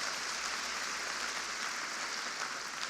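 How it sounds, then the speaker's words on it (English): Steady, even wash of applause from an audience at the National Urban League State of the Urban League address, sustained and moderately distant for about three seconds with no voices over it. "One more round of applause."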